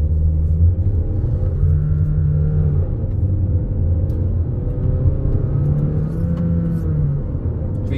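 A Honda Elevate car pushing hard during a high-speed test, heard as a loud steady engine drone and road rumble from inside the cabin, with the pitch rising and dipping slightly as the car accelerates.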